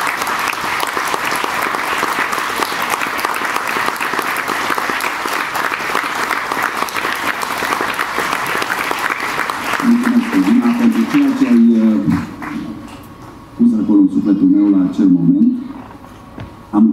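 Warm audience applause at a church concert, a dense, sustained clapping from a large crowd that fills the first ten seconds, then gives way to a voice speaking over fading claps.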